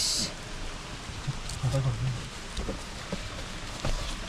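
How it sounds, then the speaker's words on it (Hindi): Heavy rain pours steadily in a heritage town in Madhya Pradesh, a dense hiss with scattered pattering close by, while muffled voices sound faintly underneath. "बहुत ज़्यादा बारिश हो रहा है"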